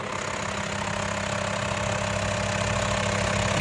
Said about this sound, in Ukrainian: Продемонструю, як працює двигун, бо працює він чудово.